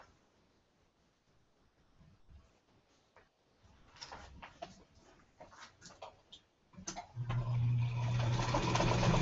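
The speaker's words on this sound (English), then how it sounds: "And I sew literally right next to the right of the line." A sewing machine stitches a quilt block just beside a marked line, starting after some quiet handling clicks and running as a steady close whir for the last couple of seconds.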